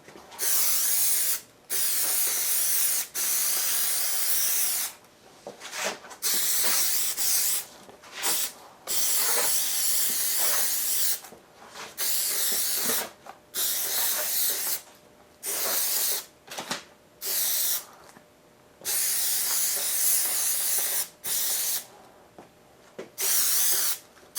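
Repeated bursts of spray adhesive hiss onto a sun visor being reupholstered for a Ford F100, each spray a few seconds long and separated by short pauses, close and fairly loud with no talking.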